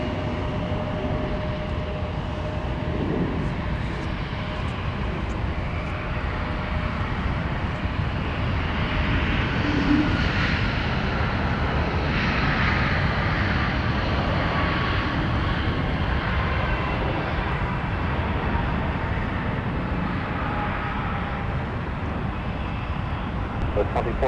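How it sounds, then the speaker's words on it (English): An Airbus A220 airliner lands on the south runway at Minneapolis–St. Paul airport, a continuous distant jet rumble and whine running underneath radio chatter and a voice talking throughout. "our Airbus A220 that just touched down on the south"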